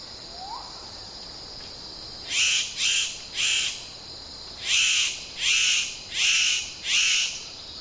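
Superb bird of paradise displaying in the wild, giving a series of seven harsh, buzzy calls in two bursts of three and four, each about half a second long. The calls are fairly close and loud over a steady insect-like hiss.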